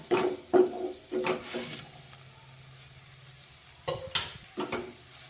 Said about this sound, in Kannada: ಈ ಮಾಡಿಟ್ಟಿರುವ ಬ್ರೆಡ್ಗಳು ರೋಸ್ಟ್ ಮಾಡಿಟ್ಟಿವಲ್ರಿ, ಇವು ಹಾಕೋಣ